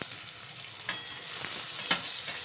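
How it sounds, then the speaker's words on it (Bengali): Small fish fry in a pan, giving a faint, steady sizzle with a few soft stirring scrapes and clicks. "মাছগুলো দিয়ে আমি একটু এপিট ওপিট সাঁতলে নেব, যাতে মাছের কাঁচা গন্ধটা না থাকে"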